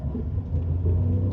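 A Tata Tiago hatchback engine pulling in first gear, a steady low rumble from inside the car that swells slightly as it accelerates, with no talking.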